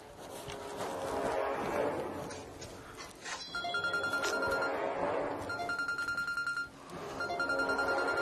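A mobile phone ringtone goes off inside a cinema, pulsing in a steady repeating pattern over the noisy, busy sound of the theatre.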